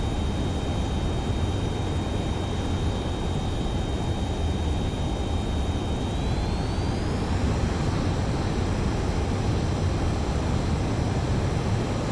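Steady, loud roar of a jet aircraft engine on landing approach to a carrier in the video game Ace Combat 7, continuous broadband rumble with a thin whine that rises in pitch partway through, no talk.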